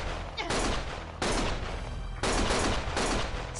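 Sustained bursts of automatic gunfire in the video game Lost Judgment, loud and harsh, coming in several long volleys with brief gaps between them.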